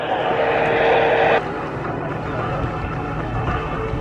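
An aerobatic aircraft climbs at Eastbourne Airshow, its engine giving a broad steady drone. A louder band cuts off early, leaving a fainter, more distant hum, with speech likely mixed in.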